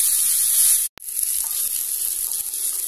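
Chopped onions for a kanda gadda (yam) curry going into oil, a loud bright hiss that cuts out briefly, then resumes as a softer, steady frying sizzle.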